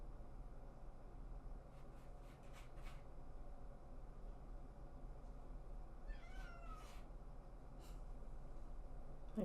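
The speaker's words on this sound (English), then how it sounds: "My cat's trying to come in to say hello." A cat meows from behind a door, a faint, slightly distant call heard a couple of times over a low steady room hum.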